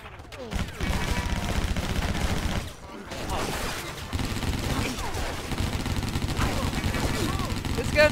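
Dense bursts of rapid gunfire from the video game Stranglehold fill nearly the whole stretch, a steady loud rattle with one short lull near the three-second mark, layered with game effects and no clear talk.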